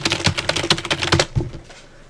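Rapid typing on a computer keyboard with closely spaced clicky keystrokes for about a second and a half, then a couple of final taps and quiet.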